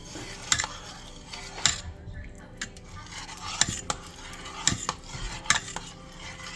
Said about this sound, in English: I'm gonna put out half a block of cream cheese in. You're just gonna give it a good stir.